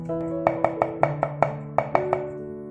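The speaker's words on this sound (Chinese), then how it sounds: "再准备小碗豆豉把它剁碎" A knife chopping fermented black beans, about nine or ten crisp, close strikes in an uneven rhythm, heard over soft sustained background tones.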